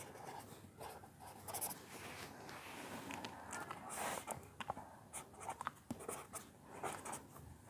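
A pen scratches out a maths solution by hand, a section-formula problem from a 10th-class exam practice paper, with continuous close scraping strokes and small taps running throughout, no voice over it.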